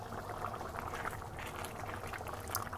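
Macaroni boiling in liquid in a single pot for a cheesy taco pasta, a soft continuous bubbling and gentle simmering, quiet and close with no voices.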